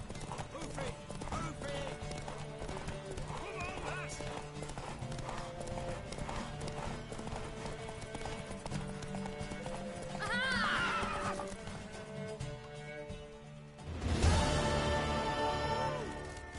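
Horse hooves clatter in a steady galloping rhythm during a horse race in The Witcher 3 video game, beneath busy game music, with a horse's whinny rising midway and a louder burst near the end.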